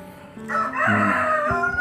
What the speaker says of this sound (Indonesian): Ayam lagi,